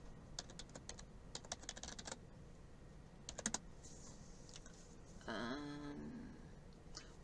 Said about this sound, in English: these are just keywords I'm just sort of typing in